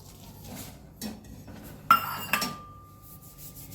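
A metal spoon stirs ghee heating in a pan, making a few faint scrapes and then two sharper metallic clinks, one leaving a brief ringing tone, in otherwise quiet surroundings.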